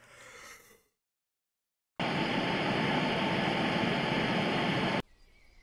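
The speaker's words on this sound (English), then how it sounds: "Static." Radio static in the video game Bad Parenting: a loud, steady hiss of broadband noise that cuts in abruptly after a moment of silence, holds for about three seconds, then drops away to a quieter tone.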